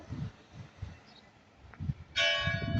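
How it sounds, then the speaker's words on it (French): A bell rings once, a clear resonant strike with a lingering tonal ring after a stretch of faint low rumbling and soft background noise. "ah, ça sonne, une cloche, une cloche."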